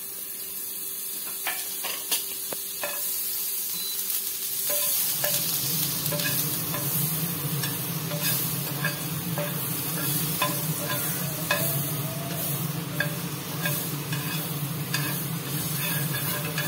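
Butter and olive oil for corn chaat go into a pan. After a few quiet seconds with light clinks, a loud, steady sizzle starts and continues with scattered crackles and spatters.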